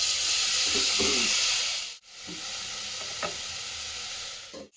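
Steady sizzle of tomatoes frying in a pan with a few soft stirring scrapes, briefly cut off once, then continuing without any voices.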